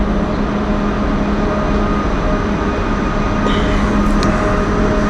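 A train rumbles steadily at a station, with a constant low drone and faint high squeals, no voices.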